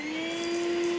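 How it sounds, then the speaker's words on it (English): A vacuum hums steadily as it collects the contents of exposed ant nest chambers dug in longleaf pine ground, a loud, close, continuous motor whine with a strong pitched tone. "the contents are collected with the help of a vacuum"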